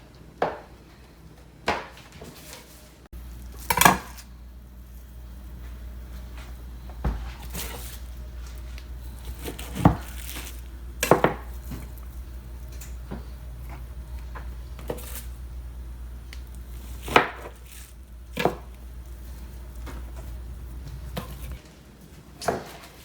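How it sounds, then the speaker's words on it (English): A knife slices through chocolate chip cookie dough and sets the pieces onto a cookie sheet, making a dozen or so soft, separate chopping taps spread out over quiet pauses, close by. "grab a handy dandy knife and just start slicing"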